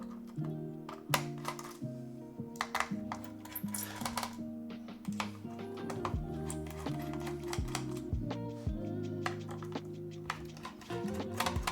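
Fingers type on a top-mount Rin60 mechanical keyboard with Cherry switches, producing quick irregular bursts of crisp clacks and taps over quiet tonal background music.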